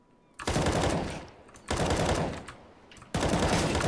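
In CS:GO, three loud, close gunshot bursts are spaced over a few seconds, each a sharp blast with a lingering rumbling decay.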